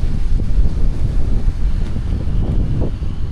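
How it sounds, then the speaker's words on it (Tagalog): Loud, gusty wind buffets the microphone at a mountain campsite with a heavy low rumble that rises and falls continuously, no voices. "Lakas ng hangin"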